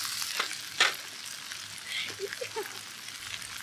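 Korean chijimi pancake batter frying in a pan at a solo campsite, giving a steady close sizzle and crackle with a few brief clatters of utensil on pan, with no talking.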